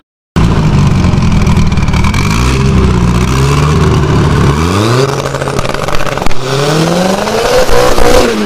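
A turbocharged Chevrolet Chevette engine revs hard and close, loud throttle blips climbing and falling repeatedly over a constant rough idle, with no voices over it.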